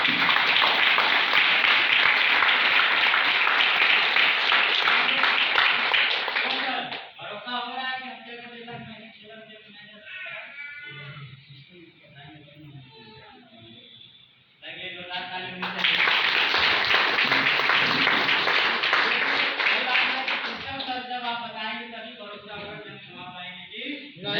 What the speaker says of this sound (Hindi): 10 लोगों के लिए जोरदार ताली होनी चाहिए